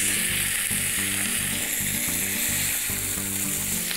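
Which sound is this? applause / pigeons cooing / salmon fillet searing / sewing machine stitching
salmon fillet searing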